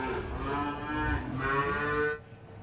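Cattle with calves in Tasikmalaya let out one long, loud, harmonic moo lasting about two seconds, close by and alone, before cutting off into quiet background.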